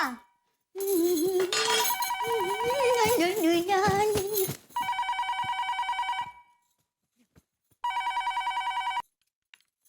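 A telephone rings in two bursts of trilling electronic tone, the second after a short pause, following a stretch of singing with music.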